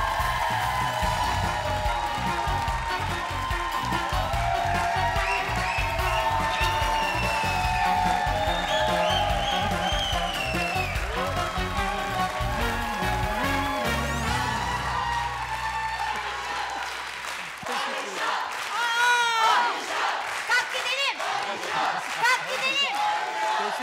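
Studio audience on a Turkish TV game show's New Year special applauds, cheers and whoops for an arriving guest, a dense, sustained crowd din under music that thins toward the end into scattered shouts and claps.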